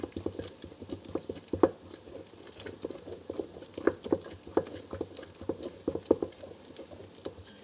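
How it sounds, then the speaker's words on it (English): Crepe batter mixed with flour using a large serving spoon: quiet, steady rhythmic tapping and scraping of the spoon in the bowl, with a few sharper knocks, close by with no talking. "I'm going to keep stirring it until it gets nice and smooth"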